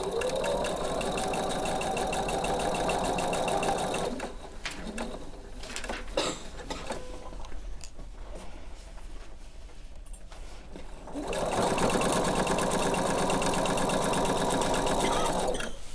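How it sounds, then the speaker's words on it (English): A sewing machine stitches quilt pieces for a sampler block in two long steady runs, a loud whirring burst at the start and another near the end, with a quieter pause between where faint coos and handling noises come through. "All right, so I'm going to sew this."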